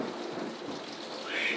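A thunderstorm outside brings steady hissing rain with a low rumble of thunder swelling underneath, heard from indoors at moderate loudness.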